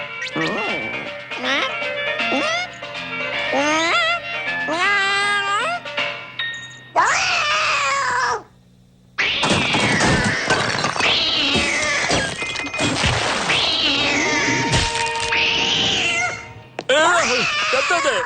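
A cat meows repeatedly and insistently, with drawn-out, rising and falling cries close by, broken by brief pauses; a person speaks at the start.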